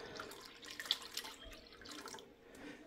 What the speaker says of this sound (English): We're gonna let that drain through there.